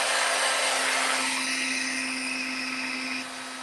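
A heat tool blows a steady, loud whirring roar as it melts embossing powder on a card, with the airflow tone shifting slightly before easing near the end.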